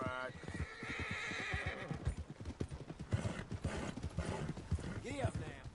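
A horse in a video game trots with a steady clip-clop of hooves and lets out a whinny near the start, with a voice talking over the hoofbeats throughout.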